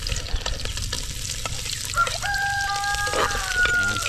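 Garlic frying in a pan, with a steady sizzle and some stirring, while a rooster crows loudly nearby partway through.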